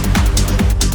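Horn sample pitched in Ableton with the Complex warp algorithm, giving a dense, smeared, mushy sustained tone with soft swelling accents and no clear attack.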